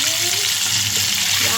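Chicken wings frying in hot oil, a steady dense sizzle filling the short stretch with faint background tones and no talk.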